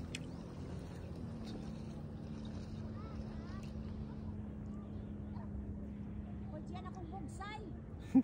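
A jet ski's steady motor drones on a lake with wind buffeting the microphone, while voices talk faintly in the background.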